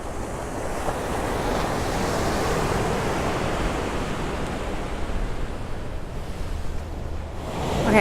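Ocean surf at Crystal Cove State Beach, a continuous close roar of breaking waves with wind buffeting the microphone, steady and full throughout.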